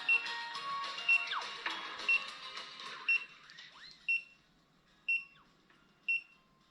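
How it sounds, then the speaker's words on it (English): A Xiaomi Pro 4 electric scooter gives short, high electronic beeps about once a second, seven in a row, while waiting to pair, close by over faint background noise. "When you pair the scooter, it stops beeping."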